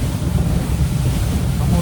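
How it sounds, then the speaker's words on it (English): Strong east wind buffets a fishing boat on rough two-foot chop at Jailhouse Reef, a steady loud roar of wind noise and rushing water with no break throughout. "Nasty east wind."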